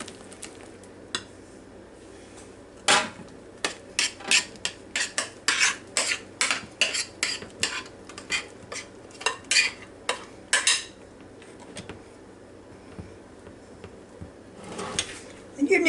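A spoon stirs a chilled mandarin orange salad in a bowl, giving quick irregular clinks and scrapes against the dish that come in bursts, close and fairly clear, with a speaking voice now and then.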